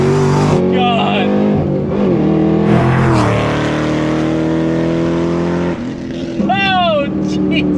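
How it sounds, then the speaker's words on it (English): A 5th Gen Camaro ZL1 accelerates hard through several gears, loud and close, its engine rising in pitch with each pull. A high supercharger whine rides above the roar, and quick shift drops separate the pulls. A voice exclaims over it. "Hear that supercharger whine go"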